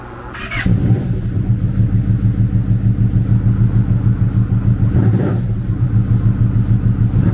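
A 2002 Yamaha Royal Star Venture 1300 with a 1294cc four-cylinder engine starts and settles into a loud, steady, throbbing idle, with one brief blip of the throttle partway through, recorded close with no talking.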